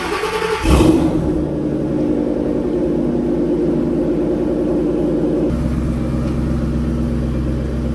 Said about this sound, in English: let's go ahead and get started with a nice cold start.